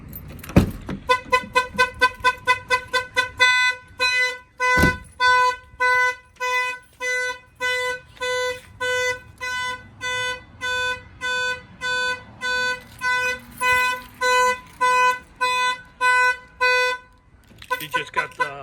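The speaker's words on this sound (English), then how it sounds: "He just got the text message on his phone that the alarm went off." A Jeep LJ car alarm blares in a repeating electronic pattern of rapid pulsing tones, shifting rhythm partway through, with a brief thump and a short pause near the end.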